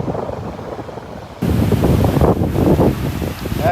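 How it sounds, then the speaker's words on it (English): Strong south wind buffets the microphone at Delnor-Wiggins beach, a constant broadband roar that grows louder partway through, with surf noise mixed into the gusts. "That wind is coming out of the south. Pretty good wind this morning."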